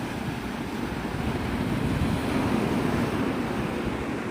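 Ocean surf and wind at Navarre Beach at sunrise: a steady, full roar of breaking waves with constant wind buffeting close to the microphone, unbroken throughout.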